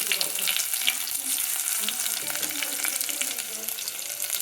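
Onions frying in hot oil with curry leaves and dried red chillies give a steady close sizzle and crackle, with occasional soft clinks of stirring throughout.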